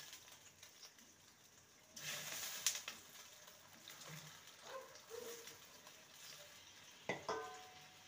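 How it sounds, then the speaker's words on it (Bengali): Cut potatoes stirred in a pan while making evening tea-time boda fritters: soft scraping and clinking of a spatula over a faint sizzle, with a few sharper knocks. "ভালো করে নেড়ে নেব।"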